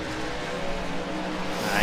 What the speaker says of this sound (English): I hear your engine getting quieter.